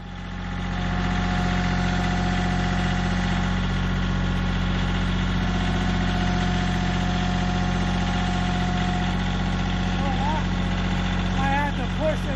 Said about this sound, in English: They're also going to use the tractor and the forks to secure it until all of the bracing is up.